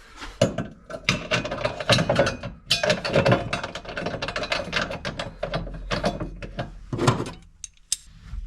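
A ratchet bolts a seat into a BMW E46 Compact Ti being prepared for drifting. Close bursts of fast ratcheting clicks alternate with metallic clanks and short pauses.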